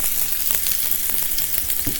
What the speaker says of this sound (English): The onions are browning up really nice.